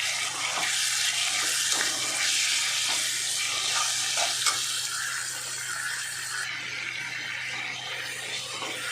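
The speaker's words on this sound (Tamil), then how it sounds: "வெங்காயம் வதங்கிட்டு இருக்குது." Onions and tomatoes sauté in a pan for a South Indian fish curry, giving a steady, soft sizzle with occasional scraping stirs.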